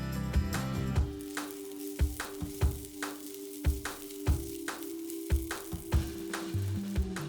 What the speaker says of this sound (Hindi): इन सारी चीजों को थोड़ा सा पका लेंगे 1 मिनट के लिए